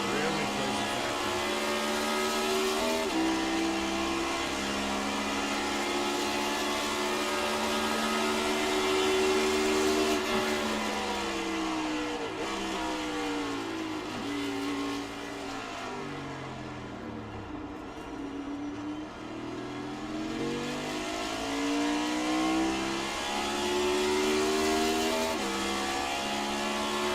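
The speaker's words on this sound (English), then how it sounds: "hear that car bottom out on the rumble strips there" A race car in a racing video game at the Daytona road course engine drones and revs through shifting pitches, dipping and climbing as it runs over rumble strips, loud and continuous.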